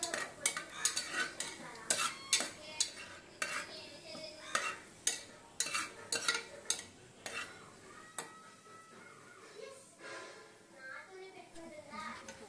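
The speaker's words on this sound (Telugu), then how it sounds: "ఫస్ట్ ఆయిల్ వేస్తున్నారు. ముందుగా బిర్యానీ ఆకులు, దాల్చిన చెక్క, స్టార్ పువ్వు, జీరా వేసుకోవాలి." Whole spices (bay leaves, cinnamon stick, star anise, cumin) in hot oil for mutton curry, a faint sizzle under repeated rhythmic metal clinks and scrapes of stirring in a pan, with voices talking throughout.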